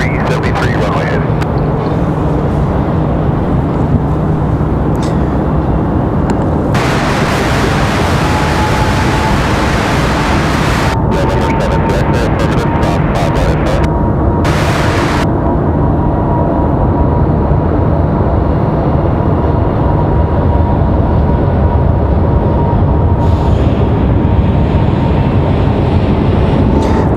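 An airliner takes off from runway 5 left at Raleigh-Durham International Airport, a loud, sustained broadband engine roar that swells and shifts across the whole stretch, with voices talking over it.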